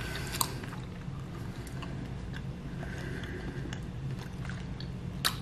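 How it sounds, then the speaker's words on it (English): Someone chews Nerds candy close to the microphone, giving soft, steady crunching and squishing over a low background hum, with a few sharper clicks. "You gotta keep chewing it because you gotta let it hit."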